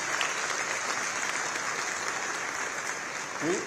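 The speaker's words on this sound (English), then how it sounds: "Let's give a nice round of applause to all our panelists for playing along for the full hour in various directions" An audience at a plenary investment summit session applauds the panelists, a steady close wash of clapping throughout with a brief voice near the end.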